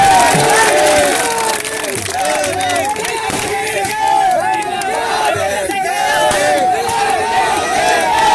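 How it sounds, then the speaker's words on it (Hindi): Crowd at a political rally in Haryana, with Nagina MP Chandrashekhar Azad being welcomed, breaking into loud, sustained cheering and applause, a dense roar of many voices shouting that holds steady throughout. "जोरदार तालियां"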